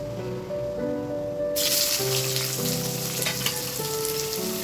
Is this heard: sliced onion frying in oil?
yes